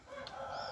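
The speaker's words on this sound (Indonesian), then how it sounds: "Nah, ini adalah jago utamanya." A sick rooster in a small backyard chicken flock gives a short, fairly faint crowing call, heard alone without talk.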